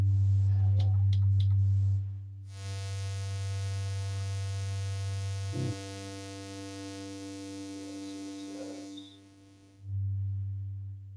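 A steady triangle-wave synthesizer tone from an Arturia MatrixBrute with a soft, hollow buzz holds for several seconds over a low electrical hum, with a faint click partway through.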